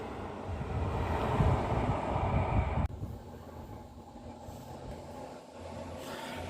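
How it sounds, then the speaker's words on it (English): A passenger train, the Barrow in Furness to Lancaster service, unit 156480, rumbles past loudly and close with heavy wind buffeting, then drops abruptly to a softer, steady rolling hum as it moves away. "Train passing now is the 1804 Barrow in Furness to Lancaster"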